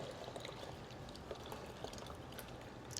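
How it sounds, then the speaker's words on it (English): Thick yogurt mixture pours steadily into the container of a Cuisinart electric yogurt maker, a soft continuous liquid trickle with faint wet splashes, close and fairly quiet throughout. "We're going to just pour this directly into the machine."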